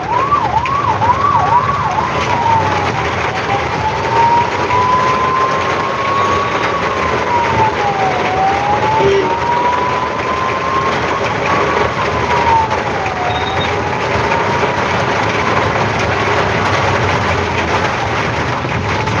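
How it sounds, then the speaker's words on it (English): An ambulance struggles through rainy Bangalore traffic, its wailing siren sweeping up and down continuously, loud and close over a dense bed of road noise and rain. "there is an ambulance here, and the ambulance is really struggling here"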